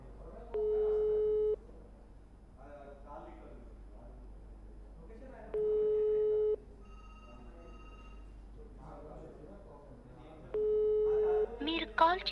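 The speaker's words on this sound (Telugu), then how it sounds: "ఎస్ రింగ్ అవుతుంది కానీ ఆయన మాత్రం ఫోన్లు అటెండ్ చేయట్లేదు" An unanswered phone call to TDP MLA Koneti Adimulam gives a ringback tone: three even, roughly one-second tone bursts about five seconds apart, with a person talking in the gaps between rings.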